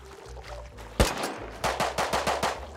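AK rifle gunfire in a video game: one loud close shot, then a rapid string of about six evenly spaced sharp cracks, over a low steady engine-like hum.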